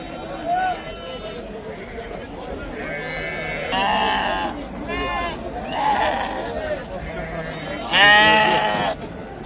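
Rams and lambs bleating at a busy livestock market, several loud, quavering bleats at irregular intervals over a crowd murmur, with people talking throughout.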